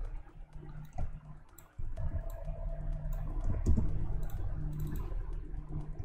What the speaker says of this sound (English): So click on Ctrl K on your keyboard to break it apart.